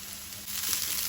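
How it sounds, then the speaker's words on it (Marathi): Grated coconut roasting in a pan with onion, ginger and garlic, a steady close sizzle and hiss that runs unbroken for about a second, with no voices. "अर्ध इंच आलें आणि लसूण कांद्या बरोबर भाजून घेऊया। सोय घालून भाजून घेऊया।"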